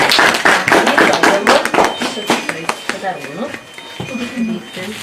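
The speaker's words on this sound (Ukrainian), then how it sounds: "Аплодуйте дівчині." Applause greets the third-place winner at a women's checkers tournament, a burst of clapping from a nearby audience that tapers off, with a voice talking over it toward the end.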